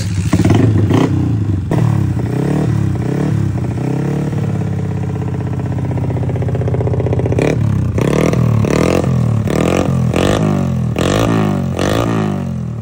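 A freshly rebuilt Yamaha Sniper MX 177cc motorcycle engine, its valve clearance just adjusted, starts and revs loudly up close, with sharp repeated throttle blips around a steady idle stretch and no talk.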